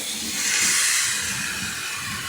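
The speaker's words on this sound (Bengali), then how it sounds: "এবার আমি চিকেনটা ছেড়ে দেব।" Marinated chicken hits a hot pan in a restaurant-style home kitchen, setting off a loud, steady, close hiss of sizzling that stays even throughout with no voices.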